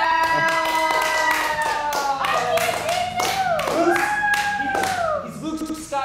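Applause from a small live audience: bursts of hand claps ringing out over a sung or sustained vocal tone that swoops up and down, with other voices mixed in.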